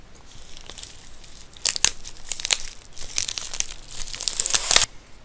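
Crinkly tearing and crumpling as a Troll & Toad package of Yu-Gi-Oh! cards is ripped open by hand, several sharp rips in short bursts, close by and fairly loud, with no talking.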